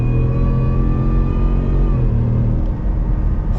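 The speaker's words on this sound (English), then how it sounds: "You can hear the supercharger, and it just is, sounds great." A supercharged Shelby F-150 off-road pickup accelerates hard, its engine roaring loud and close with a rising supercharger whine that climbs and then fades, a continuous heavy rumble throughout.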